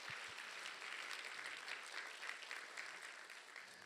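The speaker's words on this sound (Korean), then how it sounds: "우리 축하의 박수 한번 올려드리겠습니다" Church congregation applauding in celebration during a Sunday worship service, a steady, even wash of many hands clapping at a soft, distant level.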